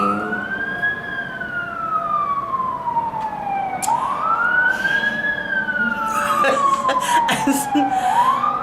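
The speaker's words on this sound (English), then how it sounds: "It's a fire truck going by." A fire truck siren wails in long rising and falling sweeps as it passes outside an open window, fairly loud, with some clattering noises near the end.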